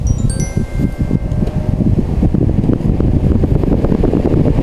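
A Gale rechargeable cordless electric fan running, giving a loud, steady whooshing airflow with a few brief tonal beeps at the start as it switches on.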